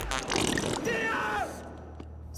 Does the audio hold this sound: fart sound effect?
yes